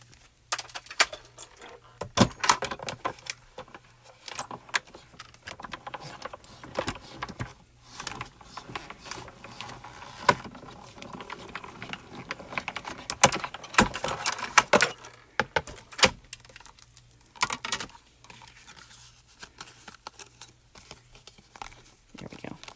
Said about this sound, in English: Betterpress paper is a little thick. I'm going to run that through one more time.